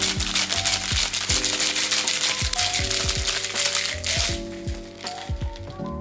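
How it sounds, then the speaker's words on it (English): A cocktail shaker packed with ice is shaken hard and steadily, a dense, rapid rattling that runs continuously for several seconds over faint background music. "Give that a shake for 10 to 15 seconds to chill and combine."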